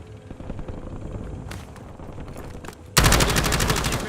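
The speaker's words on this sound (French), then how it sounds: "J'essuie les tirs." Gunfire in the Call of Duty video game: scattered shots and distant rattling bursts give way to a sudden, loud rapid automatic volley that continues to the end.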